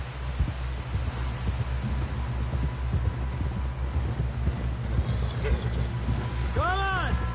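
Horse hooves in Red Dead Redemption 2 clip-clop in a steady galloping rhythm across the whole stretch, loud and close over a low rumbling bed, with a brief whinny rising near the end.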